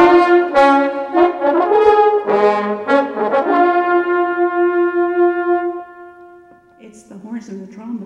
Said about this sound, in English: It's the horns and the trombones that play that.